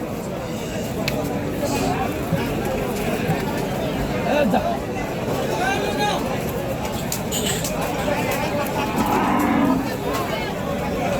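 Bulls of 20 to 22 months at a cattle farm low and moo amid a busy crowd, with constant chatter and voices from people bargaining all around.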